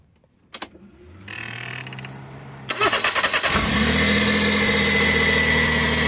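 A Suzuki K6A engine in a DA64V van, just fitted with a new throttle position sensor, is started. A few clicks and a buzzing crank lead into a catch, then a steady, loud, close idle that continues to the end.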